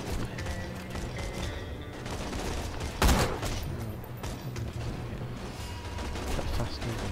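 Enemy gunfire in Borderlands 2, a dense rattling fusillade of shots running continuously over a busy game soundscape, with one sharp, louder burst partway through.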